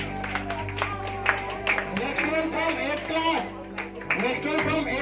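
Clapping from an audience at a school prize ceremony for Saraswati Pooja, a steady crowd patter running beneath a voice calling out over a microphone.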